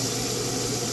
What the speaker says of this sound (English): throw this grease all over the steak. And baste it